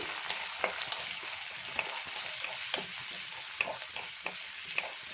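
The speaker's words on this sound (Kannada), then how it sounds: "ನೋಡಿ, ಚೆನ್ನಾಗಿ ಈರುಳ್ಳಿ ಟೊಮೊಟೊ ಫ್ರೈ ಆಗಬೇಕು." Onion and tomato fry quietly in a pan for a green chilli palya, a soft steady sizzle broken by light scrapes and clicks of stirring, with no talking.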